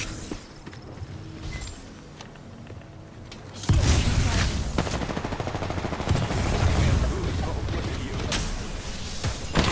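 Video game gunfire starts after a quieter stretch and then goes on as loud, rapid automatic bursts with overlapping shots, with faint voices in the background.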